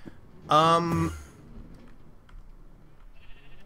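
A sheep bleats once in a Minecraft modpack, a loud, close, wavering cry lasting about half a second, followed by quiet background game ambience.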